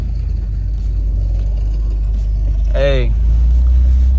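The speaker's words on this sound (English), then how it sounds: "Car got stuck in first, so we're gonna just drag it like that." A Honda Civic stuck in first gear drives with a steady low engine rumble that runs throughout, and a brief voice calls out near the end.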